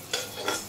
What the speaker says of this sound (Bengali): এই যে পাট শাকটা একবারে চাপিয়ে নেওয়া হয়েছে প্রেসার কুকারে, রসুন ফোড়ন দেওয়া হয়েছে, দিয়ে এবার এই পাট শাকগুলো দেওয়া হবে